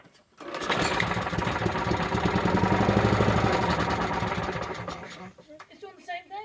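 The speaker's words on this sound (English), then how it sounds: "We got to turn it 5 or 6 times just to get it going because we've got the carburetor off." A Toro walk-behind lawn mower with its carburetor removed is pulled over and runs in a loud, rough, rapid mechanical chatter for several seconds before dying away, followed by someone speaking briefly.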